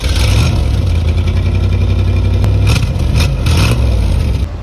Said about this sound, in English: let's listen to that V8.